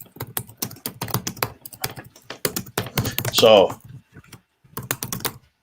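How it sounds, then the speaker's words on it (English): A loud computer keyboard is typed on in rapid bursts of sharp clacks with short pauses, close up, with a brief spoken word mixed in. "wow, that's a loud keyboard."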